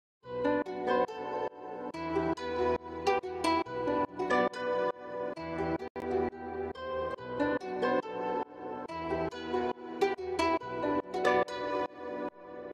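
A melodic beat loop sample processed with sidechain pumping, filtering and reverb plays alone, with rhythmic swelling chords and punchy pulses repeating steadily throughout.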